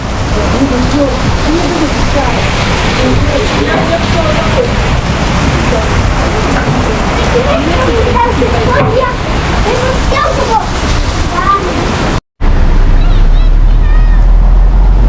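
Steady rain falls on a street in the Russian city of Obninsk, a loud, constant wash of patter and splashing that continues without a break, then cuts abruptly to a different, similar rain recording near the end.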